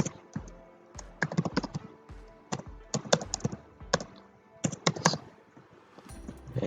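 Keys clatter on a computer keyboard as code is typed, quick irregular bursts of close, crisp clicks separated by short pauses.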